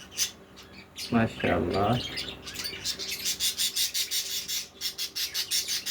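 Budgie parakeets of the black wing variety in a breeding setup give a run of sharp, rapid chirps and squawks that continue steadily after a man's brief spoken words, fairly close and moderately loud.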